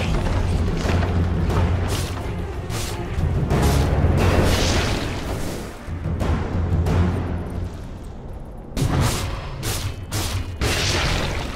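Loud battle in the video game Dota 2 as a tower is destroyed: repeated booming impacts and crackling bursts layered over dense game effects.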